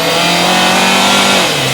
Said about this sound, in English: It has some good turbo noises with the stock airbox, but obviously more intake noises,